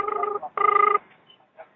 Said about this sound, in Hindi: अरे सुबह यार फोन आ गया